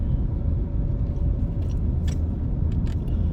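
A car driving around Norman Manley International Airport in Kingston, Jamaica, on the Palisadoes, with a steady low road rumble and engine drone from inside the vehicle and a few faint rattles.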